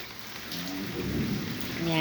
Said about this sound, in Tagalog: Ayan, may dalugdog